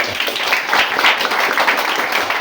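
Audience clapping in a classroom-style setting: a dense, steady wash of many hands clapping at once, loud and close, continuous for the whole stretch with no voices standing out.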